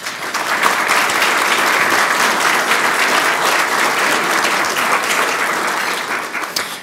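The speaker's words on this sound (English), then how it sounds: "please give them a round of applause" A large crowd claps steadily for several seconds, a dense, even wash of applause that tapers slightly at the end.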